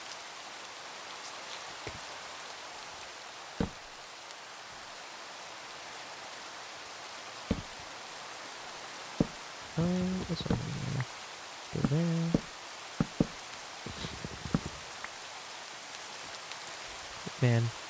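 Steady rain hisses across a video game world, a soft continuous wash of drops under occasional footsteps and bumps, while someone talks over it now and then.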